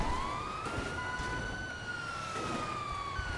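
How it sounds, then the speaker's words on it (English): A police car siren in GTA wails in a slow rising and falling tone, thin and strained, over a steady engine rumble. "the siren does work, though it sounds like it's dying."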